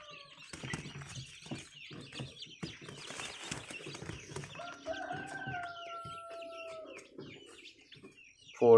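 Lavender Orpington, Light Sussex and Rhode Island Red chicks peep and chirp in a busy, overlapping chorus, with occasional soft clucks from nearby chickens in the pen.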